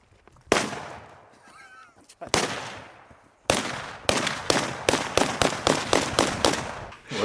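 An Arsenal SAM7SF AK rifle fires a few single loud, sharp shots spaced apart, then a fast string of about ten cracking rounds. Each report rings out close and hard, and a brief voice is heard between early shots.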